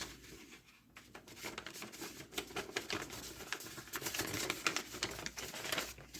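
Paper schedule card being folded over by hand at a tabletop baseball game setup, giving a run of crisp rustling crinkles and soft taps, close and moderately quiet, with no talking.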